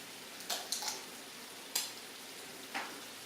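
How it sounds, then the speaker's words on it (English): Mustard being stirred into beef stroganoff in a pan over lowered heat: a few soft, brief scraping strokes against a faint steady sizzle, quiet and close, with no talking. "And you're going to stir in your tablespoon of mustard."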